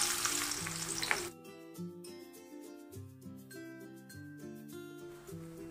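Chopped onions dropped into hot mustard oil with cinnamon and cumin, a loud burst of sizzling that settles into a quieter, steady fry while background music plays, close up.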